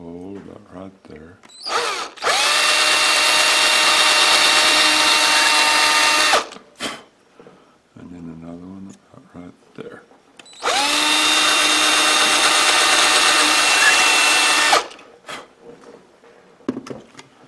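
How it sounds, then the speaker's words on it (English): A power drill runs in two long bursts of about four seconds each, loud and close, with brief quieter handling noises and murmured talk between them. "Drill me a hole about right there."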